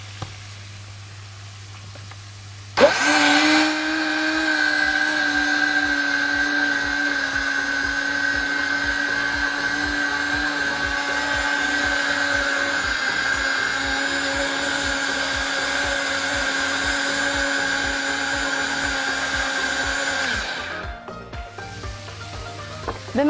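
An electric mixer beats pancake batter with sugar and a pinch of salt, a steady close motor whine that starts abruptly and runs unbroken for about eighteen seconds before cutting off.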